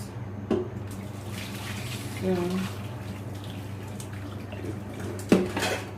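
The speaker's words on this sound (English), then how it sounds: "Okay, pour hot water" Hot water splashes and pours into a container of beans with brief clinks, a steady stream under a low background hum.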